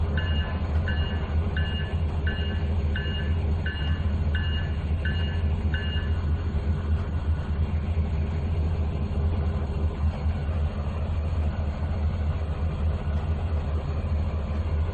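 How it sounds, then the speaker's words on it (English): A train rumbles past in the Trainz 2019 railway game, with a heavy low steady drone of wheels and engine, a repeating beeping tone early on and no speech. "that train that passed us, I set up as an inbound going into North Yard"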